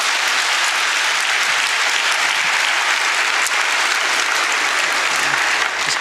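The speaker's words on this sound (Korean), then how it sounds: "기도하시고 박수로 뜨겁게." A church congregation gives dense, loud applause at an infant baptism during a Christmas service. The applause holds steady and unbroken throughout.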